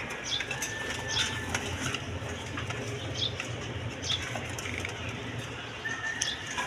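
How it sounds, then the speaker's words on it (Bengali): A pair of Danish pigeons cooing softly, with occasional wing flutters and scattered faint calls over a constant background hum. "দর্শকবিন্দু এখানে এক পেয়ার ডেনিশ কবুতর দেখেন"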